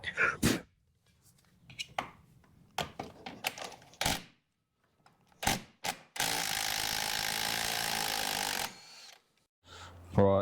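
A ratchet wrench works on bolts of a Land Rover 110, with scattered clicks and clanks and then a sustained whirring run of about two and a half seconds, all close by.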